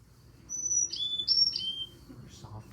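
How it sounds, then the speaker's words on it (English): Carolina chickadee male territorial song: high, thin whistled notes in a short seesaw sequence, clear and moderately near over a low background hum. "First bird we're going to look at is Carolina chickadee."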